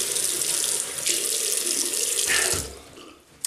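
Tap water pours steadily into a sink during rinsing after a two-razor shave, a close, constant rushing splash that eases off near the end before a brief clunk.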